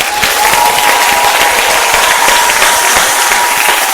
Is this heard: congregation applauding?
yes